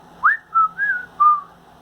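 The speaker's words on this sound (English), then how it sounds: "Can I whistle?" Someone whistles a short tune alone in a quiet room: four clear notes, the first rising and the rest held level, close to the listener.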